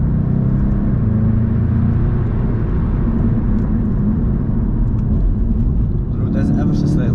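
A VW Mk7.5 Golf GTI TCR pulls hard at full throttle on a slightly damp road, a steady loud engine roar and road rumble filling the cabin without letup, with someone talking over it.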